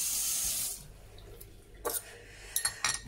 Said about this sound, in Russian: Нальем ледяную.